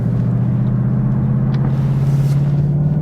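A 2022 Ford Mustang GT Premium pulling away, its V8 giving a steady, loud low rumble heard from inside the cabin with no talk.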